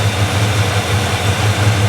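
A 1974 Chevy El Camino engine idles smoothly and steadily, a low even rumble with a faint regular pulse, close up and with no talk.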